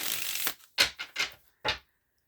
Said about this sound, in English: What we're gonna do is shuffle the tarot,